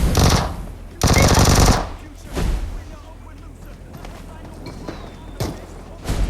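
Automatic gunfire in the PUBG Mobile battle game, two loud sustained bursts in the opening two seconds, then a quieter shot and a final short burst near the end, with people talking over the game.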